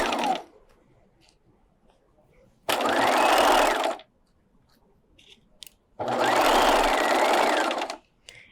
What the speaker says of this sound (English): I'm stitching at 5/8 of an inch, starting at that folded edge.